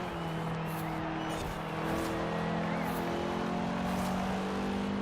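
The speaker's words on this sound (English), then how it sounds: "I'm going to drive in first person here." A lower-powered car in Forza Horizon 4 drives in first-person view, its engine holding a steady droning hum with tonal harmonics that rise slightly, with the road noise underneath and no talk.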